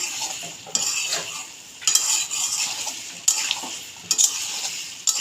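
Taro and shrimp stir-frying in an oily pan, with repeated scraping and clinking of a metal spatula against the pan over a soft continuous sizzle, the strokes coming in uneven bursts close up.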